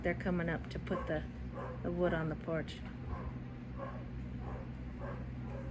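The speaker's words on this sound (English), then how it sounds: "So that's the neighbor's dog." Neighbour's dog barking outdoors near a porch where a tree and table were removed, short yips and barks heard mostly in the first half and partly under someone talking, the dog sounding moderately near against steady background noise.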